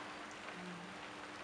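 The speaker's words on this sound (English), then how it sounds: "but right now it's raining." Rain falls at Dragobrat ski resort in Ukraine on New Year's Eve, a soft, even hiss of drops hitting surfaces, faint and constant, with no voices.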